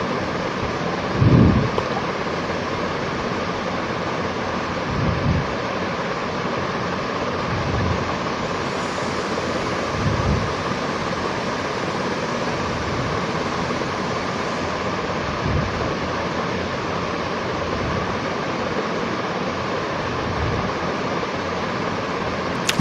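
Masala for a home-style aloo mutton curry sizzles steadily in the pan as water is added, a continuous close hiss with a few soft stirring knocks and no speech.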